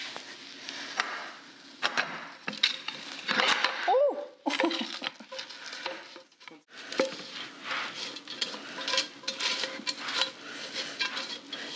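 Sticky Rice Krispies and marshmallow mixture scraped and pressed into a pan, with repeated clanks and scrapes of a utensil against metal alongside soft sticky handling noises, up close.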